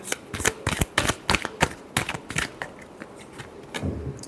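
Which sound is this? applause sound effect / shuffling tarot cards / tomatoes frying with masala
shuffling tarot cards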